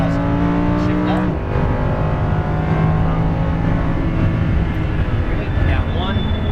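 A Lamborghini Huracan LP610-4 engine revs loud and close on a track, its rising tone cutting abruptly on an upshift at about 7,000 rpm, then pulling steadily again in the next gear under continuous drone.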